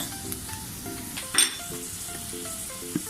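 Sotanghon noodles with carrot sizzle in a hot pan as they are stirred, with a steady fry punctuated by a few sharp clinks of a utensil against the pan.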